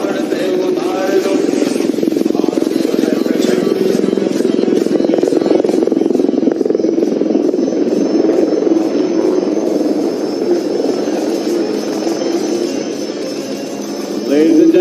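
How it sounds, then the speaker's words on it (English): A Prachand light combat helicopter flies at the Aero India 2023 air show in Bengaluru, a loud steady rotor drone with rhythmic blade chop, sustained throughout. "here she is, the light combat helicopter Prachand, right in front of you."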